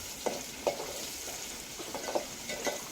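Food fries in hot oil until reddish in a pan over a wood-fired clay stove, a steady soft sizzle broken by about five sharp spatula scrapes and taps at uneven intervals, with no voices.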